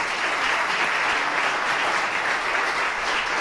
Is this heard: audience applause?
yes